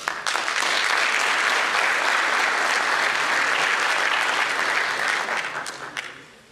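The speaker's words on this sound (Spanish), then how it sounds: "Nuestra bienvenida y el aplauso para él" Applause from an audience at a legal seminar on civil, criminal, labor and administrative liability, welcoming a prosecutor's office speaker; starts abruptly, holds steady and loud, then tapers off near the end.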